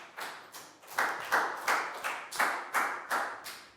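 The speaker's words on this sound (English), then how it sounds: "High five and a big round of applause for Chu" Classroom of students clapping for a classmate, about ten distinct, loud rhythmic claps in a steady beat, each sharp with a short decay, no talking over them.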